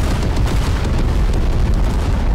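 Explosions in the video game Teardown, a dense, continuous barrage of booming blasts and crackling bursts, loud and close with no pauses.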